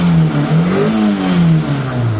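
A Mitsubishi Lancer engine, just repaired for an idle fault, runs loud and close, its tone climbing and dipping as it is revved, with no talk over it.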